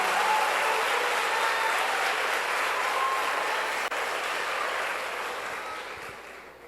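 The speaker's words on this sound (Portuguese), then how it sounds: "Se é para aplaudir, aplauda com vontade." A large conference audience at a Christian event breaks into dense, sustained applause that holds steady as a continuous wash of clapping, then gradually thins and fades toward the end, with no talk on top.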